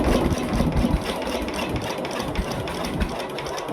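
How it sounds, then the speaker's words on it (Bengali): A motor boat engine chugs past on a monsoon-swollen river, a steady, fairly loud drone with a rough, rattling texture that holds at an even level throughout. "একটা নৌকা যাচ্ছে আর একটা নৌকা চলে এলো।"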